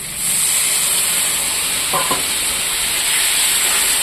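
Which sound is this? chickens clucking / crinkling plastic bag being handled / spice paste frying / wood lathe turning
spice paste frying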